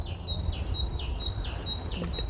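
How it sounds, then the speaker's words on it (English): At Bodenham Arboretum, a bird repeats a short chirping call four times at a steady, even pace, clear and fairly close over a low background hum. "listening to the birds talk."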